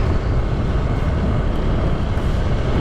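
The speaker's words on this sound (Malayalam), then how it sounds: "അപ്പോൾ നമ്മളൊരു ബൈക്ക് കയറിയിട്ട് നെക്സ്റ്റ് സ്ഥലത്തേക്ക് പോവാണ്" A motorcycle ride on a road in the Mentawai islands of Indonesia, heard as a loud, continuous low rumble of engine and wind buffeting close to the recorder, steady for the whole stretch with no voices.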